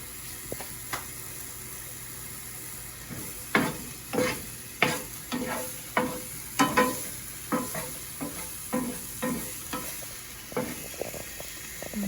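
Mushrooms frying in a pan with a pinch of salt, a steady close sizzle broken by a dozen or so sharp scraping turns of a utensil as the pieces are flipped, in a regular rhythm with no talking.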